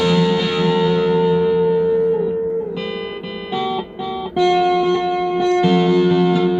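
Electric guitar runs through a repaired DigiTech Twin Tube GFX1 multi-effects pedal, giving loud, sustained distorted chords that ring out with echo and reverb, with a brief dip before the tone returns.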